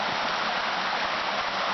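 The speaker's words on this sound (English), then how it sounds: "the small brook cascading in" A small brook cascades into a larger creek, making a steady, dense rush of flowing water, close by and continuous with no talking.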